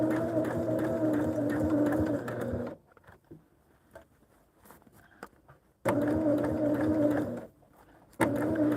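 A sewing machine stitches a curved seam in two steady bursts, a dense close whirring hum that stops briefly between runs, with faint handling noise in the pauses.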